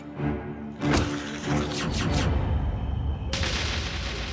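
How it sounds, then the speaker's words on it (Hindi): A sharp gunshot cracks out, followed by a rattling echo and crashing debris, then a steady noisy rush fills the background. "तुरंत गोली चला दी"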